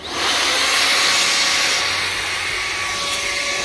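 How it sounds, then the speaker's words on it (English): Handheld air blower blasts a steady, loud rushing hiss of air into an open Dell XPS 8920 desktop tower to clear out dust, starting abruptly and holding continuously without speech. "I have this trusty blower here that I have here"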